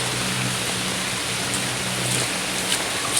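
Strong flood water rushes steadily as a dense, unbroken roar of current, loud and close, with no break or voices over it.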